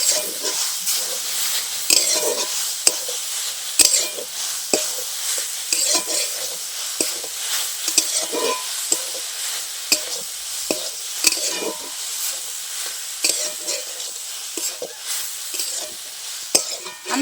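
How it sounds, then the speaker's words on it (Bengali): Grated radish filling with chaat masala and other spices stir-fried in a pan, a steady loud sizzle broken by frequent scraping and clacking of the spoon, continuous throughout without speech. "খুব ভালো করে এবার আমি কিছুক্ষণ কষিয়ে নেব"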